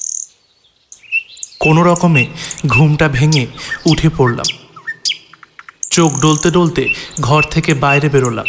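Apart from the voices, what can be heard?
small birds chirping in the morning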